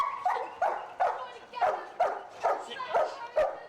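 A dog on a film set gives a run of short, regular yips and barks, about eight in a row, close and fairly loud with faint background noise.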